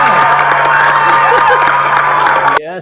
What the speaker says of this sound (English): got a little applause there for you